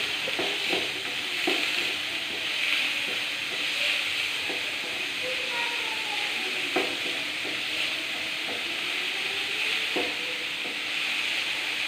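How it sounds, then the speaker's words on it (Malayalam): Turmeric powder stirred into a hot pan of frying food for a beetroot and egg dish: a steady sizzling hiss with repeated scraping, rubbing strokes of the stirring utensil throughout, close up and without speech. "ചിലപ്പോൾ മഞ്ഞൾപ്പൊടി നന്നായിട്ട് ഇളക്കി"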